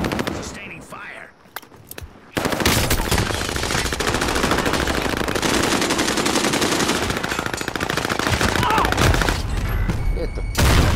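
Sustained, dense automatic gunfire in Call of Duty Modern Warfare roars up loud and close after a brief quieter opening, with rapid overlapping shots and booms continuing for several seconds.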